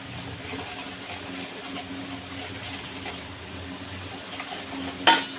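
Mango pickle ingredients with black salt being mixed in a bowl, giving low continuous scraping and stirring with faint clinks of a spoon, closing with a sharp metallic knock near the end.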